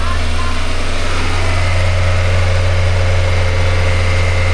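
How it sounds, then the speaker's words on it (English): A used car engine is held at full throttle against its rev limiter and gives a loud, close, steady droning roar with a constant low hum that holds throughout without pause. "Just hold it to the floor. Bounce it off the rev limiter for all I care."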